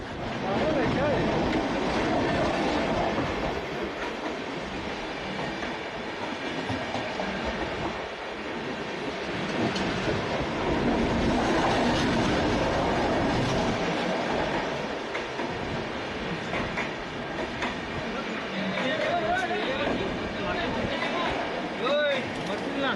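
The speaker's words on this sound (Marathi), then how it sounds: "ओए ट्रेन आ गई।" A mail express train rolling through Vasai railway station, a loud sustained rumble and rattle of wagons passing close by, with people talking over the noise.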